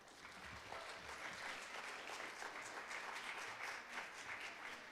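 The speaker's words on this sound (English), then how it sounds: "Let's have a round of applause for Her Excellency President Tsai Ing-wen" A large audience applauds at a women's resilience event on a main stage, a steady even wash of clapping that holds throughout, heard from a distance and fairly faint.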